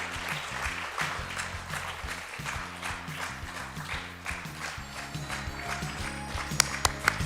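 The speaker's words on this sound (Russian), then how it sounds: "Аплодисменты, аплодисменты." Applause at an annual year-end company meeting in honour of award recipients, steady dense clapping from a seated group filling the room, with music or a low tonal backing underneath and a few sharper claps near the end.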